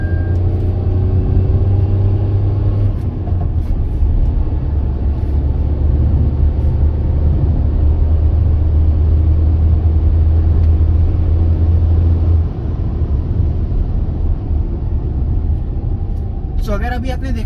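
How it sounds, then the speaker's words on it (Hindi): A Tata Altroz turbo hatchback accelerates in city mode, its engine a loud, steady droning rumble with road and cabin noise that holds for a long stretch before the tone shifts slightly. "अगर आप बात करें एक्सीलरेशन की, तो सिटी मोड पे भी एक्सीलरेशन गाड़ी का काफ़ी अच्छा है।"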